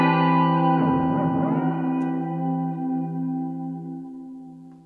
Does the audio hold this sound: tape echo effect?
yes